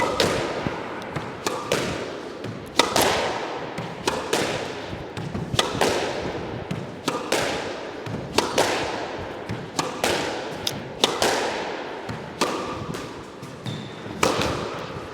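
On a squash court, a racket strikes the ball again and again in a steady rally of backhand length shots and a boast, each sharp crack echoing off the walls, with no talking.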